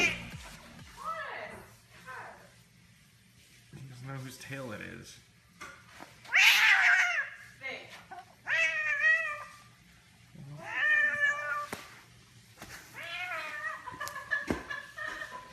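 A cat in a slightly too small box meows repeatedly at close range, drawn-out and plaintive cries separated by short pauses, with a quiet hum in the background.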